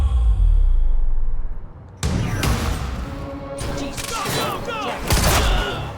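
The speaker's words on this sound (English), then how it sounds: "I just blew up the other 2 guys by firing one shot at a fire extinguisher." A gunshot blows up a fire extinguisher in the game Quantum Break: a sudden loud blast breaks in after a low rumble, followed by crashing debris, further shots and a voice over the commotion.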